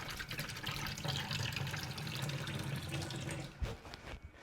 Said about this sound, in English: Let's wash my hands here.